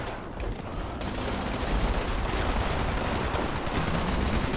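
Dense gunfire from the video game Fallout 76 roars in a continuous, loud burst of rapid shots with no pauses.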